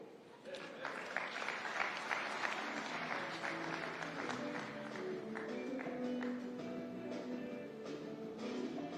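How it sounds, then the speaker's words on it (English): Sustained audience applause at the KICC after a governor's speech, a steady wash of many hands clapping throughout, fairly distant, with faint voices mixed in. "Another round of applause for Governor Nyong'o."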